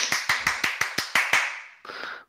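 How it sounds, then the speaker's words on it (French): A small group gives a brief round of applause around a tabletop role-playing game session: about seven sharp, evenly spaced claps, then a short softer burst of clapping, close and alone. "On attend le tonnerre d'applaudissements."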